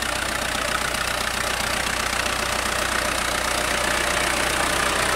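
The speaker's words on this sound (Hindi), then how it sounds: "ये फिएट ट्रैक्टर चल रहा है" A Fiat 640 tractor engine drives a water pump with a 7-inch delivery outlet in a sugarcane field, giving a steady, loud diesel drone with rapid knocking pulses that run unbroken and close by.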